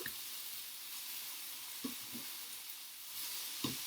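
Black beans fry and brown in a pan with a quiet, steady sizzle, broken by a few soft knocks as they are turned.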